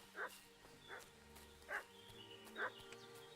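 A video game dog barks four times at steady intervals, each bark short and clear over a quiet layer of game music and ambience.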